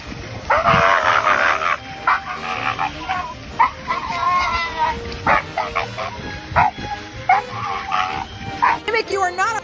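Dogs bark and yip in quick, uneven bursts throughout, including a husky, with a person's voice mixed in among the barking.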